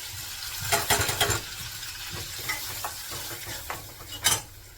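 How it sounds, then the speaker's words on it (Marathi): Light frying of spices with cumin and garlic in oil, stirred in a pan, with scattered scrapes and clinks over a soft sizzle, a couple of louder spoon strikes near the end. "सगळे मसाले हे सगळे मसाले तेलामध्ये"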